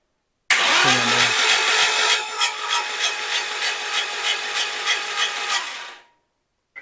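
A VW 1600cc engine on a build is cranked over, a steady loud mechanical churn with rhythmic pulses lasting several seconds, then stopping abruptly.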